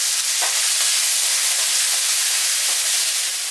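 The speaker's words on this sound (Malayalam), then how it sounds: "ഇനി നമ്മൾ തക്കാളി ഇട്ട് കൊടുക്കാവേ. അരിഞ്ഞു വെച്ച തക്കാളി" Chopped tomatoes land in hot oil in a pan and set off a loud, continuous hiss of sizzling that stays even from start to finish, close by, with no voices.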